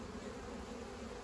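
Worker honeybees buzz softly and steadily nearby while queens are being caged, a faint continuous hum with no speech.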